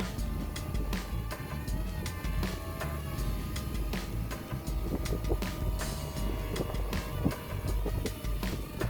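A small DJI Ryze Tello drone flies in gusty wind over an open field. A faint, steady buzzing whine is largely buried under constant wind rumble and buffeting for the whole stretch.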